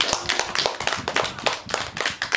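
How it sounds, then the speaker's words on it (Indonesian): Distinct, fairly close hand clapping from a small audience at a kids' dance performance, quick irregular claps forming an uneven rhythm. "Boleh tepuk tangan dulu dong"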